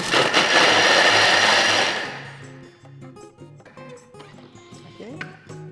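A Thermomix whirs loudly on turbo for about two seconds, blending calamansi, then cuts off, leaving quiet kitchen clinks and faint background sounds.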